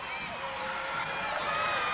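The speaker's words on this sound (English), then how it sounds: "This near-capacity crowd here at Shaler High School cheering" A near-capacity crowd at a high school wrestling show in a gym roars with a dense, sustained wash of cheering and shouting, while an announcer talks over the noise.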